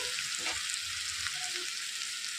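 Capsicum and peanuts fry in a pan with a steady, hissing sizzle that runs throughout, close and even, with a couple of faint stirring knocks early on and no talk.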